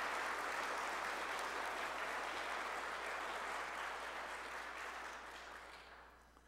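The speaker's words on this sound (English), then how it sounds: "I'm going to give him another round of applause" A congregation at a church service applauds, a dense, even wash of distant clapping that holds steady, then fades away near the end.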